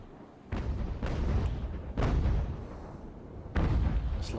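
Ship cannons fire in the naval game Ultimate Admiral: Age of Sail, about four heavy booms spaced around a second apart, each with a rumbling tail, loud and close, with no talk.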